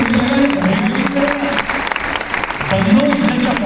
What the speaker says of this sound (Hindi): तो आप सबके लिए जबरदस्त तालियां